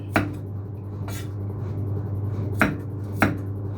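Single-clove garlic chopped into small pieces with a knife, four crisp separate knife strikes on a cutting board against a steady low kitchen hum, no speech.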